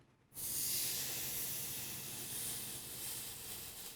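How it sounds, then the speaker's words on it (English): Pork roast searing fat side down in a hot pan: a sudden loud, steady sizzle bursts in after a brief quiet and holds, hissing, close up with no talking. "That sizzle's what you're looking for when you put it down."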